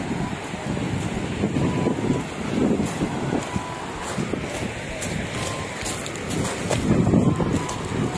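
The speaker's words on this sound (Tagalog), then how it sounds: "Ang sarap ng simoy ng hangin." Outdoor breeze at Capissayan Dam in Cagayan, a steady broadband rush of wind buffeting the microphone, swelling in gusts around the middle and near the end, with no voices heard.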